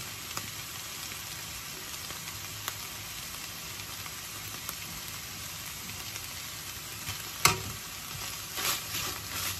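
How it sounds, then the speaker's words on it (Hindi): Onions fry in a pan with a steady, dense sizzle, and occasional scraping stirs are heard close up. No one speaks. "इसको हम अच्छी तरह से मिक्स करेंगे बस अनियन सॉफ्ट हो जाएंगे"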